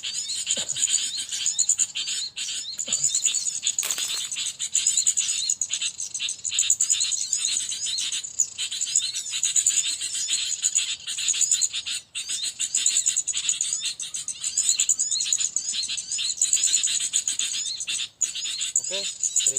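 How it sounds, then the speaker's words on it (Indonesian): Sooty-headed bulbuls outdoors at a bird-trapping spot among trees: dense, continuous high chirping and calling throughout, with brief fluttering bursts and a few faint clicks, moderately close. "Ini yang kutilang bosku, kita lepas juga."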